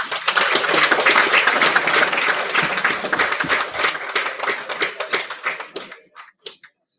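Loud, dense applause from a conference audience at an international tourism event, sustained crowd clapping that gradually thins out into a few scattered claps before stopping.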